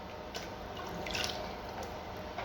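Running tap water poured and dripping during hand washing while preparing homemade pap (akamu), a steady close splashing wash with a few brief drip accents and no talk.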